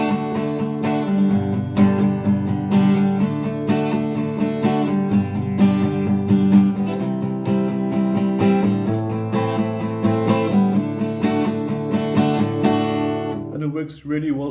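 Steady acoustic guitar strumming through the chords of a song, ending on D, loud and close, with a continuous rhythmic chord pattern that fades out at the end.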